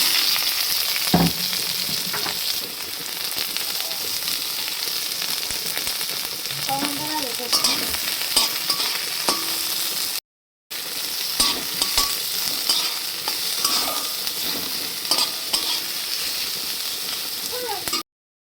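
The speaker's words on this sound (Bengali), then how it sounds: "এবার আমি পেঁয়াজ আর লঙ্কাটা ভেজে নেব।" Onion and green chilli fry in hot oil in a home kitchen pan, giving a steady, dense sizzle with occasional stirring scrapes and clinks that runs the whole time with one brief break.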